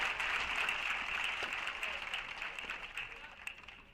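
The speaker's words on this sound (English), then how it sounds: "As you hear the slow clap coming." Steady slow-clap applause from a college tennis match crowd fills the space, a continuous wash of clapping at moderate loudness with faint voices mixed in, holding level throughout.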